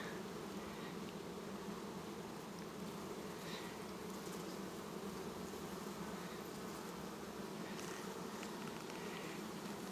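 A dense, continuous hum of many honey bees at a hive, steady and even throughout, with no voices.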